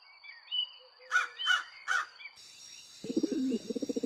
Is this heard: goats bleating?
no